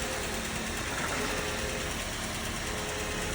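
A vehicle engine runs steadily after a jump start while being backed up at a police and towing auction, a constant broadband rumble close by with no talk.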